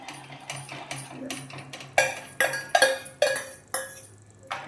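A spoon stirs custard with sweetened milk in a pot, scraping and tapping against the metal in a quick, irregular series of close clinks and rattles.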